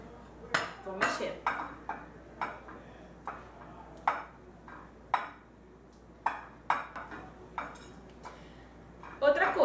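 Cake pop mixture is stirred in a bowl, and a utensil knocks and clinks against the bowl in a series of sharp, irregular taps over a quiet background.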